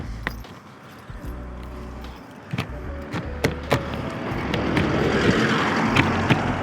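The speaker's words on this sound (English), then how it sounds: "I'm on quite a busy road as well." Traffic on a busy road flows past a parked 1980s camper van, a steady rushing swell of passing vehicles that grows louder, with a few sharp nearby clicks and knocks.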